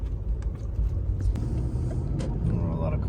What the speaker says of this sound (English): Oh, a lot of cars coming back this way.